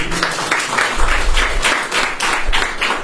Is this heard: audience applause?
yes